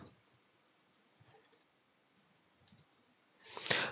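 Password typed on a computer keyboard: sparse, faint key clicks spread over a few seconds, ending in a louder burst of quick clicks close by.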